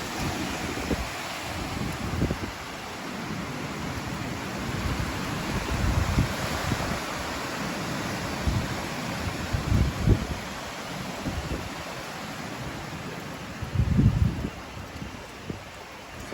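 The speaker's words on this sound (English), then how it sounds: "It's getting a little windy here." Wind gusts during Hurricane Ian on the Florida coast at Palm Coast, a continuous broad rushing roar with stronger blustery surges and microphone buffeting.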